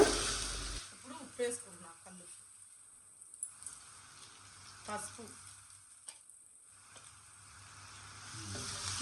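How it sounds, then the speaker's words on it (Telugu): Ginger garlic paste frying in a pan on medium flame while being stirred, soft sizzling and scraping strokes that come and go, with someone talking over it at times. "అల్లం వెల్లుల్లి పేస్ట్ కూడా వేసి చక్కగా ఫ్రై అయ్యే వరకు ఇంకా అది కదుపుకుంటూ మీడియం ఫ్లేమ్లో పెట్టుకొని కదుపుకుంటూ వేపుకోవాలండి"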